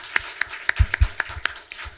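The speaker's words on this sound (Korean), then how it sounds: "일단 박수 한번 드리면서" Scattered hand claps from a talk-concert audience, a steady run of about seven sharp, evenly spaced claps over two seconds, fairly close and moderately loud, with a low thump midway and no speech.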